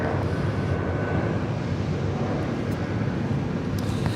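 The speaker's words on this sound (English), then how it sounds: "DHL Polar Air Cargo Flight 968 coming in from Anchorage, 747-8." A DHL Polar Air Cargo Boeing 747-8 freighter landing at Los Angeles International Airport, a steady low rumbling jet roar heard from the ground, loud and unbroken with wind buffeting the microphone.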